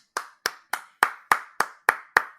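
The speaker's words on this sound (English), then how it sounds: "I'm clapping." A single person claps hands eight times in a steady, evenly spaced rhythm, each clap sharp, close and crisp, with no talk around it.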